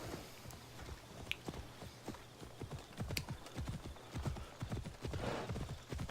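Horse hooves clip-clop in a steady galloping rhythm in the video game Assassin's Creed Odyssey, close and continuous over a low ambient drone, with a brief whinny-like cue near the start.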